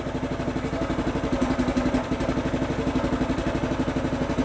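Cheap Chinese mini digger's small engine revving steadily up close, a fast, even chugging clatter running throughout with no talk.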